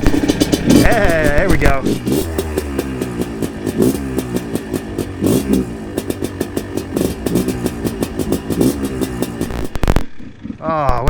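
A cold engine is started on a brisk day with the choke held out, catching and running with a rough, uneven idle beneath a voice talking throughout, then cutting out abruptly near the end.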